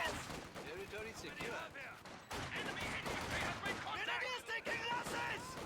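MG42 machine gun fire in a real-time strategy video game match, steady rattling gunfire and battle noise throughout, with a commentator talking over it.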